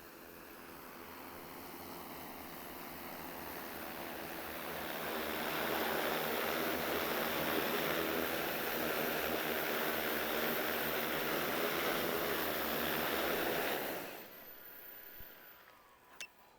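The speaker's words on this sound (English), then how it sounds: "So drone అయితే land చేయడానికి try చేద్దాము." An X8 agriculture drone with 22000 mAh batteries descends to land, its rotors making a loud, steady broadband roar that swells and then cuts off abruptly, leaving faint background noise.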